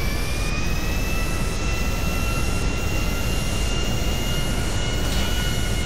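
Steady, loud jet airplane engine roar in GTA 5, a continuous broadband rumble with high whining tones holding throughout, no voices.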